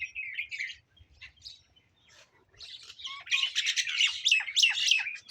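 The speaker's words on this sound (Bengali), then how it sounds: "ক্ষেতের ভিতরে পাখিগুলো খেলা করছে" Small birds chirp and squawk in a village crop field on a foggy winter morning, a few sparse calls at first, then a busy burst of overlapping tweets that grows louder.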